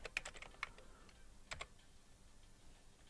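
Quiet typing on a computer keyboard while entering a directory path, a few scattered keystrokes and short bursts of clicks, close and soft with pauses between them.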